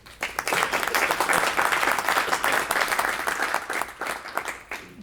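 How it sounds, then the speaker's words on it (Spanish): An audience at a Spanish-language book presentation breaks into applause, a dense, loud wash of clapping that swells quickly and holds steady before tapering slightly at the end. "Ricardo Israel, para quien pido un aplauso,"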